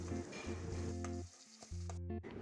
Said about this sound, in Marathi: बारीक चिरलेला कांदा घाला कांदा परतवून थोडा सॉफ्ट होऊ द्या